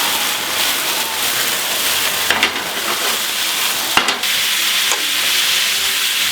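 Thin slices of steak sizzle steadily in a hot pan for a cheesesteak sandwich, a constant frying hiss broken by a few sharp scrapes and clatters as the meat is turned over, with no talking.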